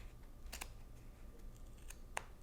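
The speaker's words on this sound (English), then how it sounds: "Use a nice pair of scissors. Keep cutting." Sharp scissors snipping through yarn while making a pom pom, a few quick close cuts in succession, faint against a quiet room.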